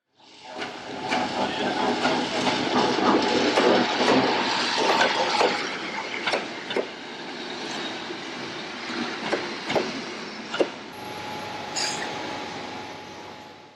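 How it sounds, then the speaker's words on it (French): Stopping passenger train 40102 from Stara Zagora pulling into a Bulgarian station: a rumbling approach builds, then wheel clicks and clanks, sharp brake squeals and hissing air as it slows, with faint voices in the background. "l'omnibus 40102 Stara Zagora-Russell entre en gare."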